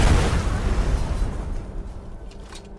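A loud explosion in Skyrim booms up close, then decays into a long rumbling tail with scattered crackles as it fades.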